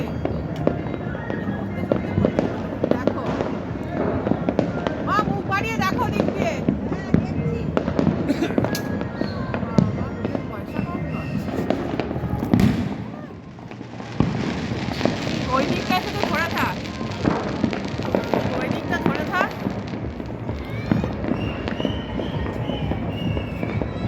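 New Year's Eve fireworks bursting close by during a picnic, a dense run of sharp cracks and booming pops over about twenty seconds, with a short lull midway, while people talk and call out beneath the blasts.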